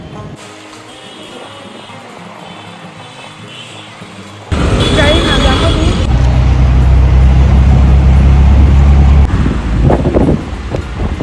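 Auto rickshaw and street traffic on a cloudy street before rain, an engine rumble rising loudly midway with wind noise and passing vehicles, while people talk over it.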